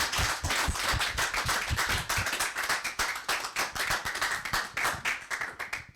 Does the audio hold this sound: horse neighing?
no